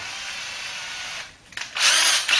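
A power drill whines steadily, briefly dips, then rises again in a louder, harsher burst as it bites into material.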